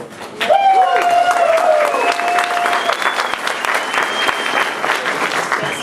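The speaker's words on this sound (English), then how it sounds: "Okay, so y'all like to cheer." A large audience at a civic speech event in Long Beach breaks into loud cheering and sustained applause, with whistles and shouts rising over dense clapping for several seconds.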